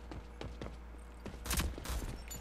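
Gunfire in the online shooter Rogue Company, with rapid bursts of shots in quick succession that grow louder toward the end, playing over steady game background noise.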